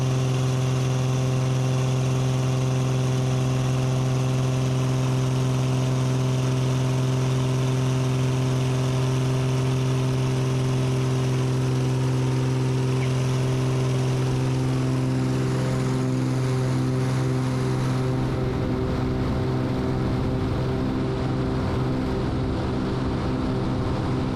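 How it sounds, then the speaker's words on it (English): A heavily loaded small airplane's engine drones steadily at high power during takeoff for a long stretch, loud and close, the pitch shifting slightly toward the end. "the plane settles back down for just a second before getting the airspeed it needed to go"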